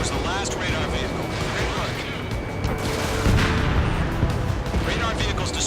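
A destroyed radar vehicle explodes in Ace Combat 7, heard as a loud, rumbling, sustained blast with booming surges, mixed with jet noise and radio voices throughout.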